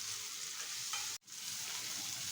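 Prawns frying in a pan for a green bean stir-fry give a steady, moderately loud sizzle, broken by one sudden brief silence midway before the hiss resumes.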